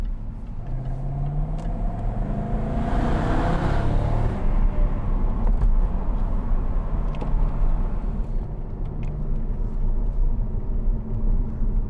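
2012 Jaguar XK 5.0 V8 Portfolio coupe with windows lowered drives onto a bridge, a deep engine rumble and road roar swelling with wind in the middle, then easing off, loud and continuous.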